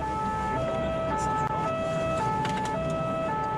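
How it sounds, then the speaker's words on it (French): A SAMU emergency ambulance races along a country road in rural Burgundy, its two-tone French siren alternating steadily and loudly over the hum of the engine and road. "une ambulance du SAMU est lancée à vive allure"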